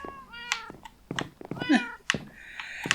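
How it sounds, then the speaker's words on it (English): Several distinct cat meows in quick succession, close and fairly clear, with short pauses between calls and no talking over them. "typical cats don't do a thing that you tell them to do"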